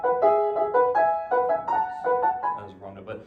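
Solo piano playing Liszt's Paganini arrangement The Hunt, ringing repeated chordal figures that imitate hunting horn calls, bright and sustained, dropping to a lower rumbling passage near the end.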